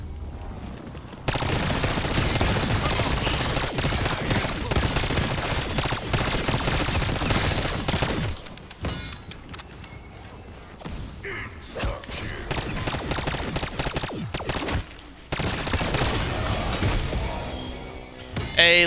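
Rapid automatic gunfire in a video game session, dense sustained bursts running almost without pause, loud and close, with brief gaps between volleys.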